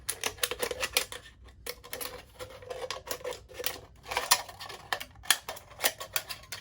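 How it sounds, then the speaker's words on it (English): Scissors snipping through a thin aluminum can sheet make a quiet run of quick, crisp clicks and crinkly cuts in irregular bursts, with brief pauses between strokes and no talking. "I'm just gonna do it with scissors really quick."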